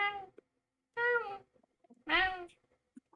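A cat gives three separate meows, each a clear rising-then-falling call, with short quiet gaps between them and nothing else heard.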